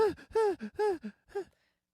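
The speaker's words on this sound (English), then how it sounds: "I know his heavy breathing." Heavy, labored breathing from a Terminator 2: Judgment Day movie scene: a series of voiced, strained gasps and exhales in quick succession, close and fairly loud, trailing off into silence.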